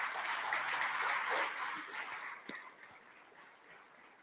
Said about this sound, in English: let's give a big round of applause to the NVMM staff who are all here